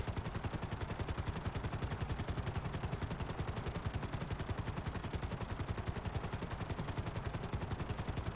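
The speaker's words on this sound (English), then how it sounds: "just to shoot a lot of things in a shooting game" Rapid, continuous automatic gunfire from a shooting video game with a helicopter, a steady machine-gun-like rattle running unbroken at moderate loudness with no voices.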